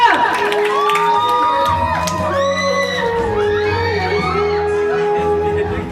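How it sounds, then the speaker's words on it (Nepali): A crowd at a school talent show cheers, whoops and shouts for the announced winner, a loud, steady roar with high voices rising over it for the whole stretch. "जोरदार तालीले स्वागत गरौँ"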